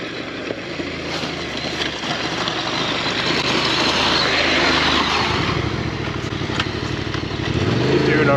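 A Yamaha Tenere 700 or Husqvarna Norden adventure motorcycle riding a green lane in the Lake District, engine droning steadily and building slightly toward the end, with rumbling ground noise and a voice talking at times.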